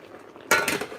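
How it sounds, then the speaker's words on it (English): Potatoes go into a hot skillet on a home stove, setting off a sudden loud burst of sizzle and clatter halfway through that stays strong to the end after a quiet kitchen lead-in. "I'm gonna get these potatoes in the skillet."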